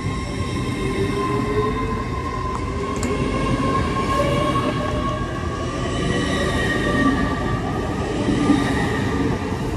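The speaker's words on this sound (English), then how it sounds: "there goes the slight delayed 1452 Great Western Railway service to London Paddington." A Great Western Railway Class 800 multiple-unit set, led by 800-007, pulls out of Bristol Parkway station toward London Paddington, with a steady heavy rumble and rising whining tones from the traction units as it gathers speed nearby.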